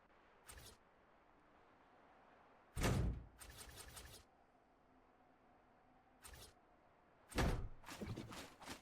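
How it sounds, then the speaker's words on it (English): Building pieces snapping into place in a construction video game while a door is added to a tower, several separate dull thunks and short clattering bursts spread across quiet gaps. "I think I'll put a door in on this."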